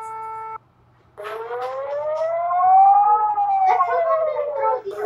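An emergency alert system siren from another country wails in a single long tone that rises and then slowly falls, following a short steady electronic beep, loud and alone.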